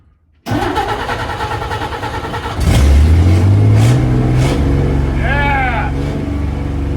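A car engine cranks briefly, catches and starts after a coil replacement, then settles into a loud rough idle with a couple of revs; voices talk over it.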